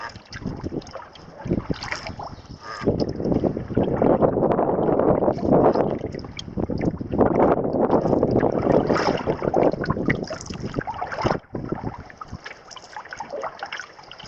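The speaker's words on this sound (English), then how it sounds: "The wind's picking up a little bit too." Wind gusts on a Boundary Waters lake in spring, a steady broad rushing that swells and eases over the whole stretch, with faint lapping water and occasional buffeting on the microphone.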